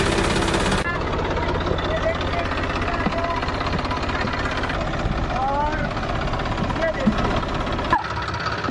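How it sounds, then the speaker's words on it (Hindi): A tractor engine runs with a steady, loud low rumble as the tractor drives over a Safari trolley bag in a weight test, with someone talking over the engine noise. "अब आगे और चलाते हैं ट्रैक्टर को।"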